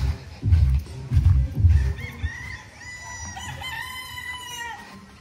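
Chickens on a farm, with a rooster crowing and hens clucking nearby, over low thumping background sounds early on.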